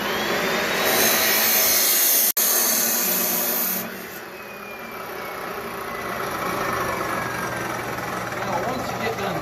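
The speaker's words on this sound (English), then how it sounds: "once you get done cutting your hydraulic hose" A hydraulic hose being cut through on a marked spot, a loud whining roar with one sharp snap midway, then the noise dropping to a lower steady drone as the cut finishes.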